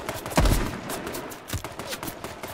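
Gunfire in the survival shooter H1Z1, a heavy close shot followed by a scatter of lighter pops and another sharp report over continuous game ambience.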